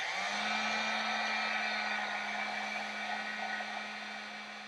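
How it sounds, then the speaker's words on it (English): A heat gun blows hot air during scale crafting work, a steady whooshing hiss with a constant motor hum that tapers off slightly toward the end. "Heat gun."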